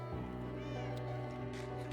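A cat meows in the Minecraft video game, a couple of short, clear calls over a steady background hum from the game.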